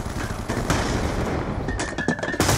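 Concussion grenades going off in Black Ops 2 multiplayer, a dense, loud wash of blasts and gunfire that runs without a break, with sharper bangs near the end.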